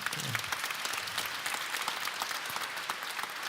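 Moderate applause from a conference audience, a steady wash of clapping at fairly low level, with a brief low voice fragment near the start.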